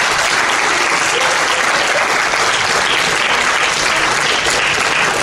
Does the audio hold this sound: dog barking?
no